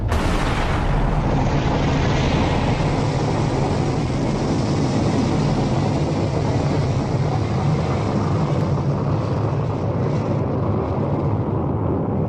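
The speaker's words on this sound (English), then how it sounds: "the Jupiter C lifts off, carrying the Explorer satellite" Jupiter C rocket lifting off with the Explorer satellite in January 1958: a loud, continuous broadband roar that holds steady for the whole stretch, with no talk over it.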